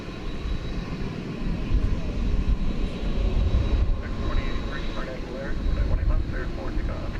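A jet airliner roars on takeoff at DFW Airport, a broad low rumble at moderate distance, while someone talks over it throughout.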